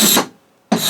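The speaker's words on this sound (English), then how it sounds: "a cabinet scraper." A cabinet scraper drawn along the top edge of a wooden cupboard door to remove tear-out, heard as two close, loud rasping strokes separated by a short silence.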